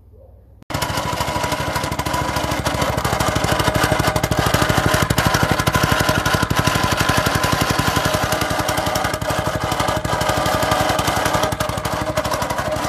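An 80cc off-road buggy go-kart engine starts with a brief low sputter, then runs steadily with a loud, rapid, evenly pulsing chatter close by for over ten seconds, no talk over it.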